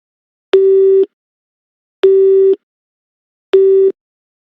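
Three identical telephone busy-signal tones in the video game Nancy Drew: Midnight in Salem, each about half a second long, sounding at even intervals with silence between, loud and clear.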